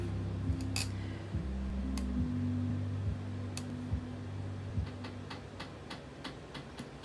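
Several sharp metallic snips and clicks, with a low hum underneath, then a run of lighter ticking clicks.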